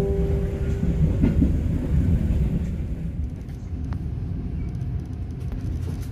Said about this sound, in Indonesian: Kereta api Serayu saat ini masuk di jalur 1, jalur lurus stasiun Cipendei